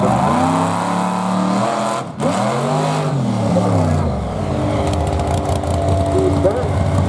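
A 1939 Chevy hot rod launches hard at Barona Drag Strip, its engine roaring loud and close, pitch climbing through gear changes before settling into a rougher, fading rumble.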